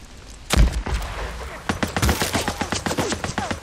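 Rapid machine gun fire in the video game Days Gone: a heavy opening blast, then a fast run of sharp, evenly spaced shots that rattle on to the end, loud and close.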